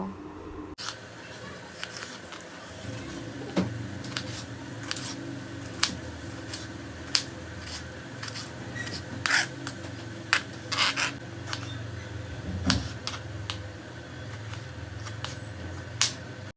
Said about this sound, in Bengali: এবার আমি টমেটোটাকেও এইভাবে কুচি কুচি করে কেটে নেব